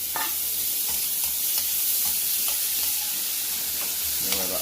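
Ingredients sizzling in a pan with lobster during a catch-and-cook in Jamaica, a loud continuous fry with repeated scraping and stirring clicks from a utensil, no voices.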